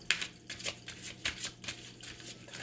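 Tarot cards being shuffled in a few quick, papery riffling bursts, close and moderately loud, with no voice over them.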